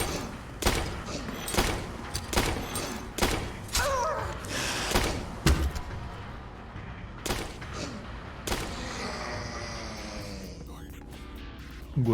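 Gunfire from fighting enemies in the survival horror game Tormented Souls: a string of sharp, loud shots spaced irregularly, with thuds and mechanical clanks between them and no talking.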